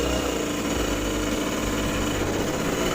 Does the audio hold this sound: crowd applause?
no